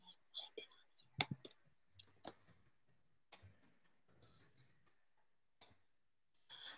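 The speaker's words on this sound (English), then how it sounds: "I also hope the key clacking isn't too loud for you all" Computer keys clacking quietly in a few sparse, scattered bursts of clicks, with soft speech murmured in between.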